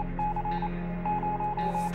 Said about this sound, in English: Morse code.